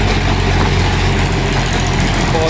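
A Farmtrac 45 tractor, 2020 model, fitted with a rotavator, idles steadily and loudly throughout, a deep continuous rumble with no pauses and no talking.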